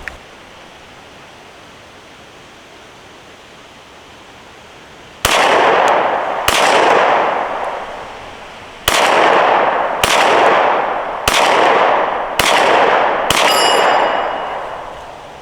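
Seven loud pistol shots from a Glock 43X with S15 magazines, fired slowly at a steel target, each sharp crack ringing briefly off the steel, spaced about a second apart after several seconds of quiet.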